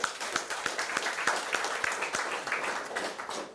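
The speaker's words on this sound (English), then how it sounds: "So I'd like to round of applause for our Board of Trustees." An audience at a chamber of commerce annual meeting applauds the Board of Trustees with a dense, steady round of clapping that holds for several seconds, moderately loud and a little distant.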